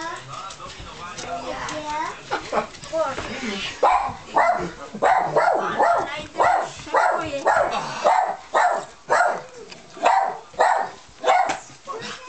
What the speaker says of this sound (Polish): Mała, nie szczekaj.